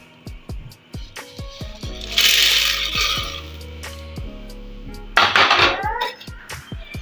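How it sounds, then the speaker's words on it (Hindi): Popcorn kernels stirred with a spatula in a metal pot, giving repeated scraping clatters and sharp clinks, with bursts of louder rattling, close and alone. "और हम इनको स्पैचुला की मदद से हिलाएंगे।"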